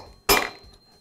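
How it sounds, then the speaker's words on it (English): A hammer strikes a punch set in the center of a Husqvarna leaf blower's tapered flywheel shaft. One sharp metallic impact rings out close and loud, then fades quickly, with no voices. "I'll place a punch in the center of the shaft and tap it with a hammer."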